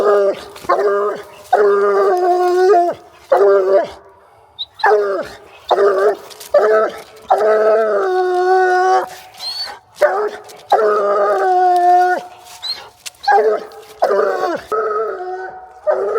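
Hunting dogs bark and bay repeatedly at an animal treed in the woods, loud and close in rapid overlapping bursts with brief pauses between.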